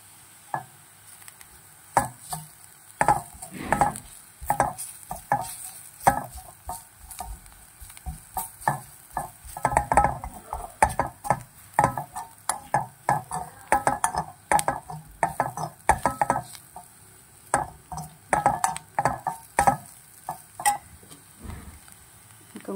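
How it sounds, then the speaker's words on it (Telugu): Drumstick leaf powder frying in a pan while being stirred for a spicy karam, giving irregular scraping and stirring clicks over a faint continuous sizzle, close and steady throughout with no talking. "ఇది కొంచెం ఈ మునగాకు పొడి పచ్చి వాసన పోయేంత వరకు ఫ్రై చేసుకోవాలి"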